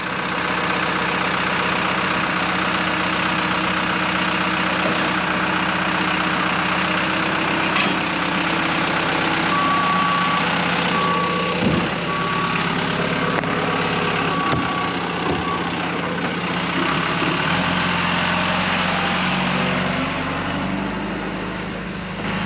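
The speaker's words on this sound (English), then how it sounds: "being able to back up a four-wheel trailer that has a steering axle on the front, that is very tricky" A truck idles and creeps while backing a four-wheel trailer with a steering axle, its engine a steady low rumble throughout, with intermittent reversing beeps and occasional clanks in the middle.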